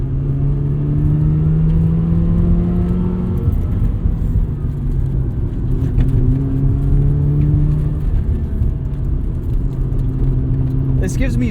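A 1990 Mazda RX-7 (FC) engine hums and rumbles steadily at moderate revs while driving, with a mild exhaust note and someone talking over it.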